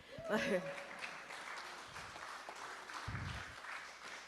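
A church congregation at a Unitarian Universalist worship service in Vermont bursts into hand clapping after a short spoken phrase, the applause swelling then thinning into scattered claps with a voice returning briefly near the end.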